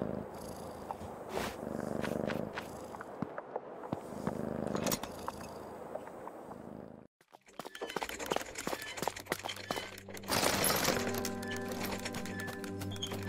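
Cat purring in the video game Creepy Tale 2, a steady rough rumble with small clicks, broken by a short silence before busier game sounds and music take over.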